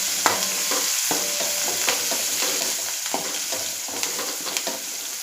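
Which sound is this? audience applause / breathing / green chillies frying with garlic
green chillies frying with garlic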